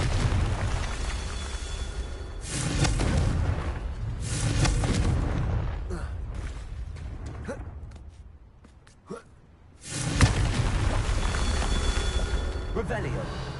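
Confringo fire spell explosions in Hogwarts Legacy burst as heavy booms in several loud waves, with a short quieter stretch and a sharp blast near the end, and a voice speaks amid the combat noise.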